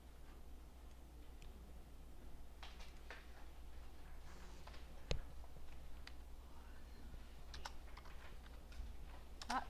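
A computer keyboard is typed on while text is entered in a design program, producing faint scattered key clicks at an irregular pace over a low steady hum, with one sharper tap midway.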